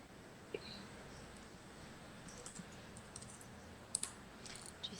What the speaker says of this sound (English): They're going to have to start being a bit quieter on the keyboard.